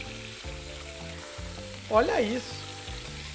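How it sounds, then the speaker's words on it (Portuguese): Pork rib tips sear in a heavy iron pot, a steady loud sizzle and frying hiss throughout, with a brief spoken remark partway through. "Enquanto essa carne tá selando"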